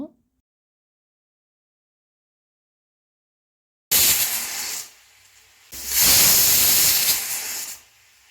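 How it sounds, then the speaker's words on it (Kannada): A pressure cooker of moong dal vents steam in two loud hissing bursts close by, the second longer than the first, with a brief lull between them. "ಕುಕ್ಕರ್ ಕ್ಲೋಸ್ ಮಾಡ್ಕೋಬೇಕು ಫ್ರೆಂಡ್ಸ್. 1-2 ವಿಸಲ್ಸ್ ಕೂಗಿಸ್ಕೋಬೇಕು"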